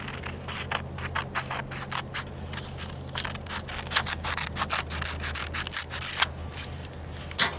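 Scissors cut through a folded paper square in quick, crisp snips and rustles, close and fairly quiet, repeating in a loose rhythm with no voices.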